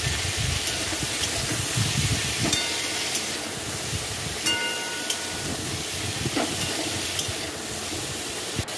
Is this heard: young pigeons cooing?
no